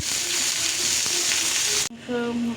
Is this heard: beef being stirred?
yes